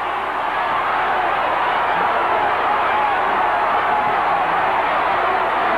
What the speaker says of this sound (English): The crowd roaring for more action, as if though they hadn't had enough.